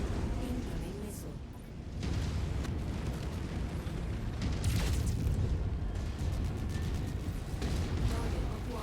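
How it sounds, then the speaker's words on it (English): Missile explosions in the mech combat game MechWarrior 5: Mercenaries roll on as a sustained, loud, rumbling barrage of blasts, with a few sharper bursts over a dense low roar. "Incoming missile."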